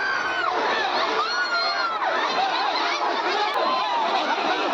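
A dense crowd of devotees at a temple stampede screams and shouts continuously, with many overlapping high, panicked voices at a loud, constant level and no break.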